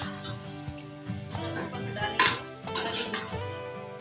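Chopped potatoes are stirred into a spice mixture in a pan, producing close, irregular scraping and clinking of a utensil against metal, with soft shuffling in between and a faint sizzle underneath.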